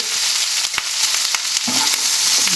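Loud, close sizzling of vegetables frying in a pan with chili, turmeric and coriander powder, with crackles and a few scraping stirs as food is moved around.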